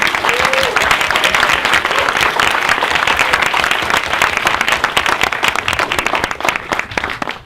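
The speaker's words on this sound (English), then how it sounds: "Can we have a round of applause" A large film festival audience applauds loudly and continuously after a screening, dense clapping filling the space without a break.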